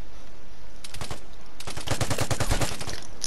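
VZ rifle gunfire in the video game Vigor: rapid, loud bursts of shots, first a short volley and then a longer fast string of cracks, close and sharp.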